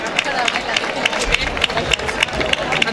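A festival crowd claps in a steady rhythm for the Club Palas rhythmic gymnastics group from Albacete, a loud continuous beat of hands under cheering, chatter and hall noise.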